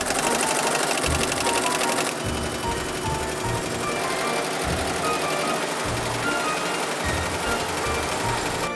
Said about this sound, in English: The multi-needle machine makes this part easy.